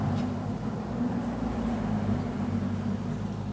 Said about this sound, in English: but just listen to this engine brake